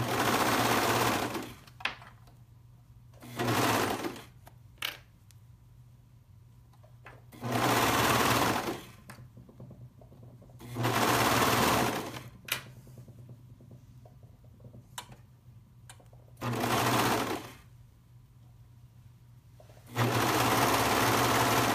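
A sewing machine stitches a pullover sleeve seam in six loud bursts of a few seconds each, separated by quiet pauses while the fabric is turned, with a steady low hum underneath.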